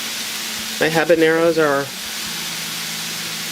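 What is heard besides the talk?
sautéing a small jalapeno in a Kuhn Rikon frying pan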